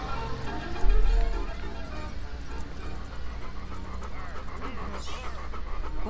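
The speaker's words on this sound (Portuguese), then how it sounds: "agora eu vou no cachorro" A dog pants in the video game Bee Simulator, a rhythmic breathy huffing under busy game background sound with a louder burst near the start.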